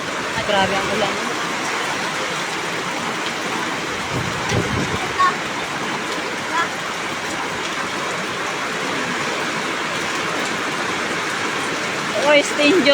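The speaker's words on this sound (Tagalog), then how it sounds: "Ah, grabe ang ulan." Heavy typhoon rain pours steadily during Typhoon Kristine in the Philippines, a dense constant hiss of downpour close by, with a few faint voices now and then beneath it.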